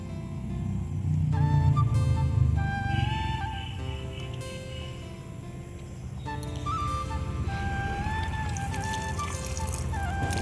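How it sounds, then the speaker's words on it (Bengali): Water is poured steadily over vegetable plants in a home garden on an afternoon, giving a continuous close wash of splashing and trickling, with tonal background sounds running throughout. "একটু সবজি খেতে আর কি জল দিচ্ছি বিকালে"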